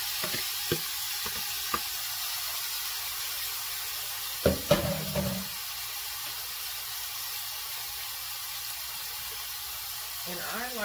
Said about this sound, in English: It's gonna sizzle real good because this is really hot.